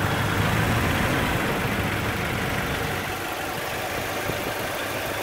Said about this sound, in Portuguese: Olha que belo funcionamento do motor.